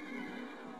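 A horse in Minecraft with the Mo Creatures mod gives one faint, drawn-out whinny that lasts under a second, heard alone without talk.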